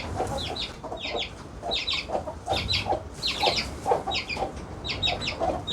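Several chickens on an Australian farmhouse garden clucking steadily in repeated short bursts, close by, with a continuous murmur of fowl in the background and no talking.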